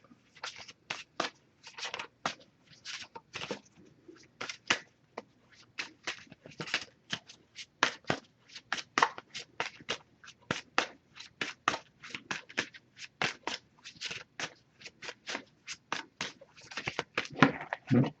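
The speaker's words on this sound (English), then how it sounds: "I'm just going to pull a single card from this deck." Oracle cards from a Messages of Love deck being shuffled and one card pulled: a long run of quick papery riffles and slaps, steady and close, with no talk.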